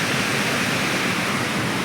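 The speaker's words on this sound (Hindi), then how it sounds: "झरना देखिए कितना सुंदर नज़ारा है।" A mountain waterfall on the trail toward Vavbal Top on the Amarnath Yatra route rushes in a loud, steady broadband roar with no pauses or voices.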